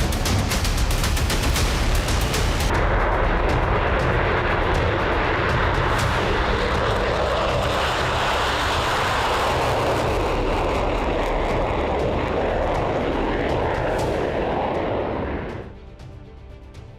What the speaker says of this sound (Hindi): जॉर्डन के एयरबेस पर अमेरिका ने अपने लड़ाकू विमानों का जमावड़ा खड़ा कर दिया है।